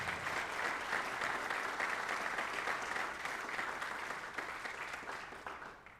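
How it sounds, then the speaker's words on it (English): Steady applause from families and coaches at a high school athletics spring signing day as an athlete signs a letter of intent to play college football, continuous clapping that slowly fades at the end. "Let's give him a round of applause as he signs his letter of intent to play football there"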